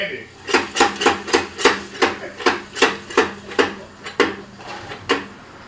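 Repeated metallic hammer taps on a car's brake backing plate in an auto repair shop, about a dozen sharp, evenly spaced strikes ringing close and loud with no talking.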